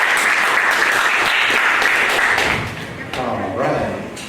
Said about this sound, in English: Audience, let's show them what I mean. Big round of applause.